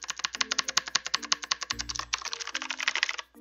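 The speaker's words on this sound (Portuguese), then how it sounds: "O barulho do teclado da Razer" Rapid clacking keystrokes on a Razer BlackWidow X Tournament Edition Chroma mechanical keyboard, a fast even run of sharp close clicks with a brief pause in the middle, loud and alone.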